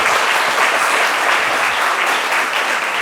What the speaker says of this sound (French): Alors, ces applaudissements,